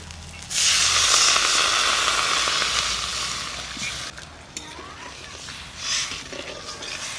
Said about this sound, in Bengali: ঝোলের জন্য জল দিয়ে দিচ্ছি।